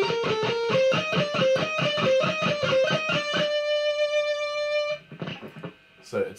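Rapid electric guitar shred run, a steady stream of picked notes settling into one long ringing note, followed by a few scratchy muted strums.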